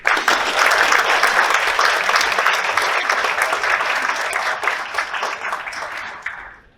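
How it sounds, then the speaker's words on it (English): Evening event audience gives a speaker a big round of applause, many hands clapping in a loud dense burst that gradually thins and fades out over about seven seconds. "we want to give him a big round of applause"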